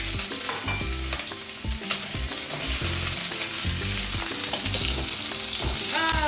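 Chopped onions fry in hot oil in a pan, giving a loud, steady sizzle that runs through the whole stretch, with occasional stirring scrapes and knocks close by.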